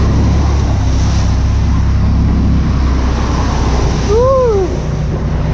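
An off-road vehicle on a trail splashes through water and mud holes, a loud continuous rush of water and engine rumble up close, with a brief rising-and-falling squeal near the end.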